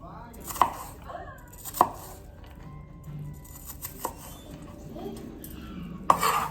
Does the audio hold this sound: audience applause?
no